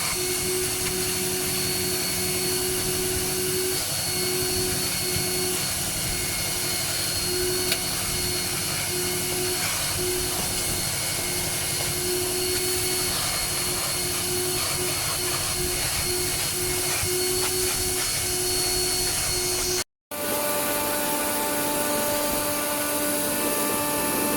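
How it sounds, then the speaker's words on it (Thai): A vacuum cleaner sucking dust from behind the dashboard of a Toyota Revo pickup, a loud, steady whining drone that runs continuously, cuts off abruptly for a moment near the end, then resumes. "ก็ดูดฝุ่นความสะอาดหล ังหน้าปัดให้ด้วยนะคะ"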